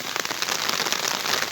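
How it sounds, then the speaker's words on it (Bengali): Steady rain pours onto a village river, a dense, even hiss of countless drops with faint individual patters, close and continuous with no voices. "বৃষ্টি পড়তেছে নদীতে।"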